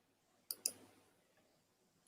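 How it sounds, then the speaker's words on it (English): A computer mouse clicks twice in quick succession, faint and close, with one more soft click a moment later against a quiet background. "I can hear you clicking and clicking."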